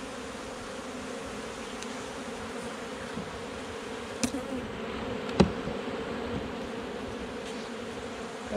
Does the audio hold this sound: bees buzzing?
yes